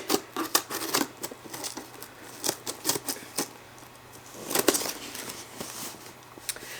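Series of sharp snipping clicks from children's craft scissors, irregular and close, cutting paper, with quieter pauses between bursts.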